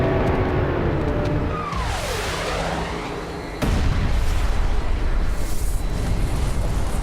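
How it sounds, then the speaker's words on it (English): Asteroid impact in a dinosaur documentary: a descending whoosh builds, then a sudden enormous blast cuts in and becomes a sustained, loud, rumbling roar that fills the rest of the scene. "The asteroid hits with an explosive force of 100 trillion metric tons"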